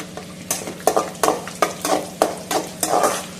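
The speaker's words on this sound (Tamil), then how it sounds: "ரவையை சேர்த்து நல்லா நம்ம வறுக்கணும்." Semolina roasting with cashews and raisins in a pan for rava kesari, stirred steadily so a dry sizzle rises with a scrape roughly every half second, close and moderately loud with no one talking.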